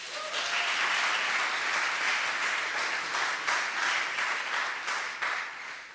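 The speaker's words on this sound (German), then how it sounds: "Ihr könnt die mal mit einem kurzen Applaus begrüßen." Steady applause from a church audience, a dense wash of clapping that holds evenly for several seconds without voices.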